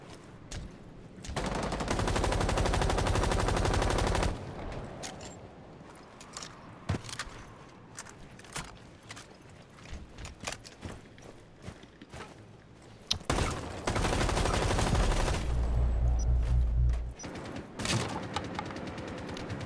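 Gunfire in the tactical shooter Rainbow Six Siege, with two long sustained bursts of automatic fire near the start and again later, and scattered single shots, thuds and footsteps in between.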